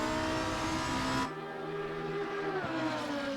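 A Lamborghini Huracan EVO GT3 race car at Imola in Assetto Corsa Competizione roars at high revs, then drops sharply on a downshift or lift, with engine tones falling and rising again as it drives on, loud and close.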